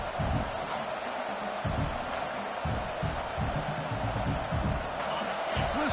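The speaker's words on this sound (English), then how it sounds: "Listen to the crowd energy here in the early going." A stadium crowd in a college football video game, a Clemson vs USC playoff matchup, gives a steady roar with rhythmic low thumps, continuous under a voice speaking throughout.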